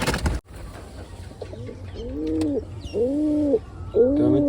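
Wild pigeon cooing at a nest with eggs, three clear rising-falling coos repeating about once a second, close and fairly loud over a low steady background hum.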